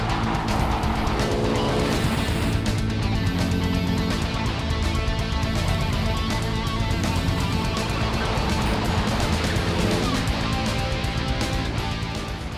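A 1949 Chevy 3100 pickup with a hopped-up straight-six engine driving, its engine droning loud and steady from close by, a continuous rumble with shifting pitch and no talk over it.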